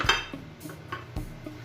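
Ginger, garlic and onion go into a frying pan, heard as a few distinct clinks and scrapes of utensil against pan, spaced out and fairly close, with no talking.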